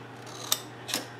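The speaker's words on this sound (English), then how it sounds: "We're going to snip right here." Scissors snip paper for a steampunk mini album, two crisp close cuts about half a second apart in a quiet room.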